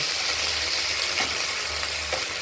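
Sliced okra lightly frying in oil in a wok for a mustard-poppy seed chorchori, a close, constant hissing sizzle with soft stirring bumps and no voices.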